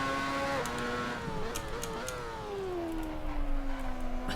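A formula race car engine in a VR racing game howls close and loud, its pitch dipping with a gear change and then climbing steadily as it accelerates, with a short rattle midway.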